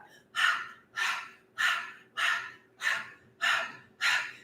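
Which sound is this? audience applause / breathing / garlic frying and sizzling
breathing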